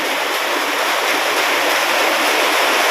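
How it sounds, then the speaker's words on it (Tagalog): Creek water rushing steadily on a flooded vegetable farm, a dense, continuous broadband roar close by with no pauses or voices. "Ito ang agos ng sapa, oh."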